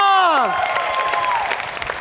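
Studio audience applause on a talk show, breaking in as a sung tone fades out, then continuing as a dense, even round of clapping.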